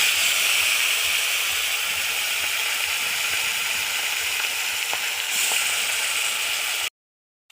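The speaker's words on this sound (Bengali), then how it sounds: "প্রথমে মাছটা ভেজে নিই। কড়াইতে তেল দিয়ে দিয়েছি," Fish fries in hot oil in a wok, a dense steady sizzle and hiss that runs loud and close for about seven seconds before cutting off abruptly.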